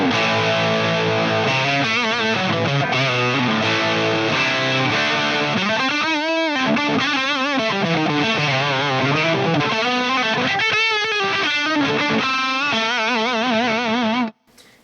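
Heavily distorted electric guitar through a Mesa Stiletto Deuce amplifier with the gain near three o'clock, playing a continuous loud run of riffs and bends with thick saturation, cutting off abruptly at the end.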